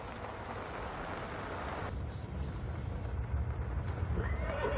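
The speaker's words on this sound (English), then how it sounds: "A horse!" A horse whinnies at a distance in a rural, isolated setting, a faint, drawn-out call over a steady background hiss, with a soft clip-clop hinted near the end.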